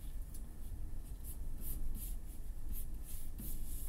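Pencil sketching hands on paper: soft, close scratchy strokes in short repeated bursts at a steady drawing rhythm, quiet and alone without speech.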